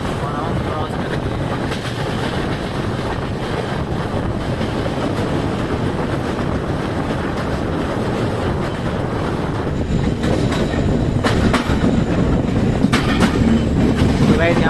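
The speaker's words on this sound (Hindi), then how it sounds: "आप EMD का साउंड देख सकते हैं, एकदम पावर, पूरा दम लगाता हुआ" An Indian Railways express hauled by an EMD diesel locomotive at full power, heard from aboard as a steady loud rumble and rail clatter that grows slightly heavier toward the end.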